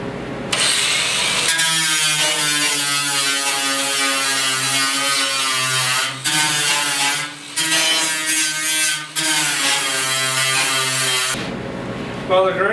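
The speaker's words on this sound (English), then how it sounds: "that's why we got the die grinder out, just a narrow little deburring bit" A die grinder fitted with a narrow deburring bit works the door bodywork of a 1956 Mercury, a loud high whine running in long bursts with a few brief dips and pauses.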